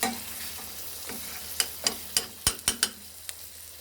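Sucuk sausage fries in a pan under a soft steady sizzle, broken by several sharp utensil taps and scrapes against the pan.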